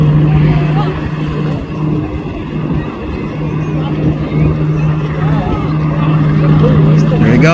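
A motorboat engine drones steadily at close range, its throttle holding a constant hum while excited voices talk over it.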